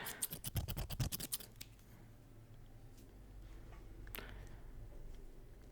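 Two pairs of scissors snip and clack close to the microphone in a quick rapid run of sharp crisp clicks, then fall to quiet with a few scattered faint clicks.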